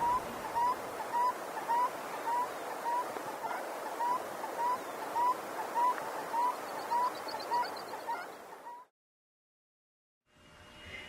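A seedsnipe (perdicita cojón) calls in a steady series of short, evenly spaced hooting notes, repeated about twice a second over a soft background, then stops abruptly.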